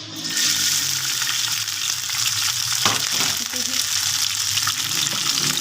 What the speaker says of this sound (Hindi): सबसे पहले मैं इसमें बॉयल हुआ हुआ चिकन डालूँगी।